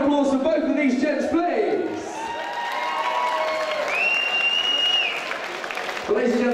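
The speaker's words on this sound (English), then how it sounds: "Big round of applause for both of these gents" A boxing event crowd applauds and cheers after a fight, with an announcer's amplified voice speaking over the clapping through most of it.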